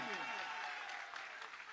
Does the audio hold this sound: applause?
yes